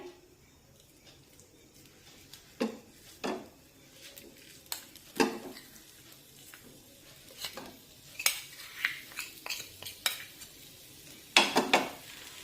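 Grated fresh coconut and jaggery are stirred together in a pan over a low flame, with a soft sizzle under irregular spoon scrapes and clinks against the pan.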